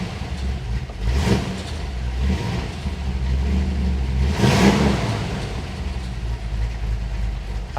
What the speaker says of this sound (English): It's right at about 700 RPM where you expect it to be on a Chevy 350. You can hear that great cam lope.